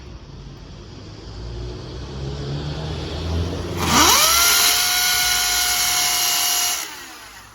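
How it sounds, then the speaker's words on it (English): Power drill boring into brick while fitting a starter track for external wall insulation: a low mechanical rumble, then the motor spins up sharply and holds a loud, high whine for about three seconds before stopping. "So I'll just drill one hole after another and fix it and keep making sure it's flat."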